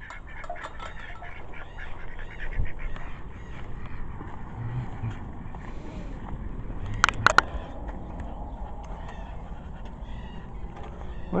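Ducks in a farm duck pen quack faintly and intermittently against a steady outdoor background, with a brief sharper burst of calls partway through.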